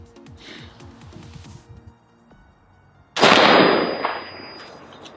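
A single sharp report from a Colt Air Force Model 601 clone rifle fired toward a 300-yard target, sounding loud and close against quiet outdoor background, with a ringing decay.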